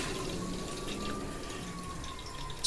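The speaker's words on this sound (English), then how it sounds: "When you flush, here's the amount of water that it uses." A water-saving toilet flushes with a steady, fairly quiet rush of running water that holds evenly throughout, heard close up with no talk.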